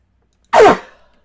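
A single sharp sneeze bursts out loud and close, then fades quickly into silence.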